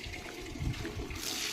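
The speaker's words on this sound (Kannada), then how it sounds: "ಸೀತಾಫಲ ಗಿಡಕ್ಕೆ ನಮ್ಮ ಮಮ್ಮಿ ನೀರು ಹಾಕ್ತಾ ಇದ್ದಾರೆ" Water pours steadily onto a custard apple plant in a home garden, a continuous splashing rush that brightens near the end, with no voices.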